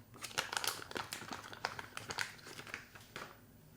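Plastic packaging around a silicone case crinkles and rustles in quick irregular bursts at close range while it is unwrapped during an unboxing, with no talk.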